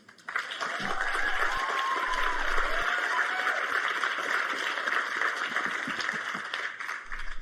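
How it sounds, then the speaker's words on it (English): An audience applauds itself at a spiritual channeling talk, a steady wash of clapping held at an even level for several seconds, fairly close and full, with no talk over it. "Applaud yourselves."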